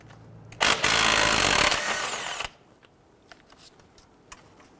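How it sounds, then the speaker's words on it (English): A power tool, likely an impact or ratchet driving an 18mm socket on a Jeep Grand Cherokee sway bar end link nut, whirs loudly in one burst of about two seconds, then gives way to quiet clicks and small handling noises. "Using an 18mm socket, we're going to go ahead and loosen and remove the nut on the lower portion of our sway bar end link"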